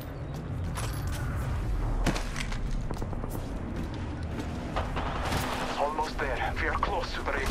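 Gunfire in the Apex Legends battle royale, steady dense bursts of shots and impacts layered with game effects, with voices speaking over it throughout.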